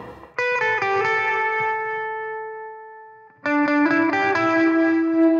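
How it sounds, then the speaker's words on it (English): Electric guitar with chorus and effects plays a lead line for a worship song, two phrases of sustained, ringing notes with a gap between, alone and fairly loud. "So that whole section together."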